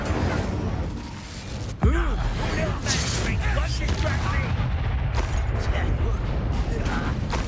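Incendio fire spell cast during a duel in Hogwarts Legacy, a sudden whooshing burst with a rising magical sweep, followed by continuous combat noise and spell effects.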